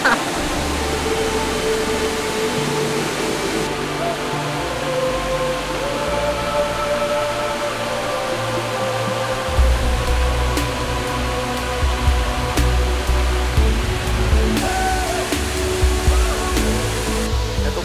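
Sicul Falls in Barangay Sicul, Santa Praxedes, Cagayan, pours with a loud, continuous roar close by. The rush deepens and swells midway, with brief voices and exclamations breaking in over the water.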